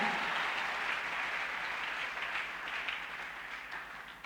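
A church congregation at an evangelical temple breaks into continuous applause, a dense wash of many hands clapping at once that holds steady and then slowly softens.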